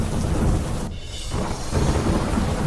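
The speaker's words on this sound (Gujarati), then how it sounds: "વરસ્યો ધોધમાર વરસાદ" Heavy monsoon downpour in Ahmedabad under dark clouds: a dense, continuous roar of rain, with rumbling thunder rolling underneath, loud and enveloping throughout, no voices.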